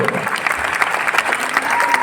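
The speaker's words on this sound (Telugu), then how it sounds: "మీ అందరితో ఒకసారి జోరుగా క్లాప్స్ అండి" An audience at a Vestige business meeting gives a burst of loud, dense clapping from many hands, continuous and close throughout, with a voice briefly underneath.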